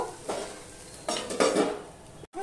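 A metal lid clatters onto a kadai of papaya, potato and soybean curry on a gas stove, a few close metallic knocks and scrapes in quick succession over a faint kitchen background.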